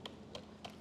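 Four quick keystrokes on a computer keyboard as an IP address is entered, soft, close clicks spaced evenly in a brief burst without speech.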